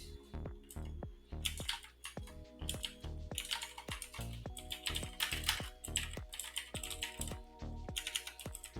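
Fingers type on a computer keyboard in quick irregular bursts of close, crisp key clicks with short pauses between words.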